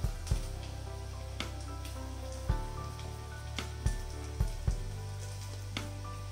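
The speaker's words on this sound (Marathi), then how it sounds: "आपला हा वडा आता मस्तपैकी फ्राय झालेला आहे" Crispy rice vada made from leftover rice deep frying in hot oil, a soft steady sizzle and bubbling with occasional sharp pops and taps, fairly quiet and close.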